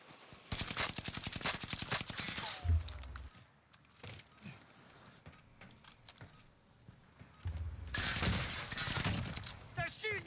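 Bursts of rapid automatic gunfire in Call of Duty Warzone, loud and close, with long rattling volleys at the start and end, a few scattered single shots between, and faint voices.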